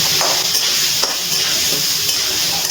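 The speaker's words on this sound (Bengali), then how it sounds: "এবার খুব ভালো করে আলুগুলো ভেজে নিচ্ছি গ্যাসের ফ্লেম হাইতে দিয়ে" New potatoes with a little turmeric fry and get stirred in a pan over a high gas flame, giving a loud, steady sizzle with scraping stir sounds throughout, and no voices.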